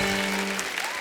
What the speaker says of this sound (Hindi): जो लोग ज्यादा तालियां बजा रहे हैं